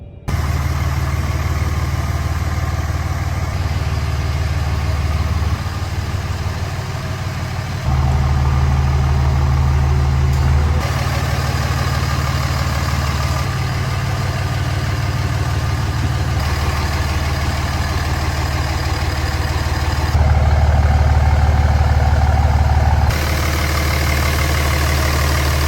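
A third-generation Dodge Ram 2500 pickup idles with a steady, loud low rumble that stays constant, with slight shifts in tone over a long stretch.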